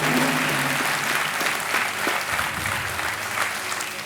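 Studio audience applauding on a television quiz show, a dense, steady wash of many hands clapping at full volume throughout, with faint voices mixed underneath.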